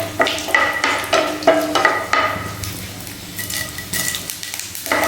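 Dried red chillies, a bay leaf and panch phoron tempering in hot oil in a pan, with steady clinking and scraping of a utensil against the pan over a soft sizzle, no one speaking.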